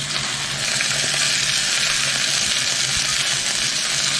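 Whole spices such as fennel and cinnamon frying in hot oil for chicken curry, a steady loud bright sizzle that stays constant without pause.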